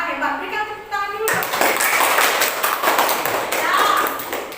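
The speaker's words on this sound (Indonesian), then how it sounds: "Anak-anak kelas 8A hebat. Berikan tepuk tangan dulu." A class of students clapping hands in applause, a dense burst of many overlapping claps filling the room, close and loud, starting abruptly after a brief tonal sound and continuing steadily to the end.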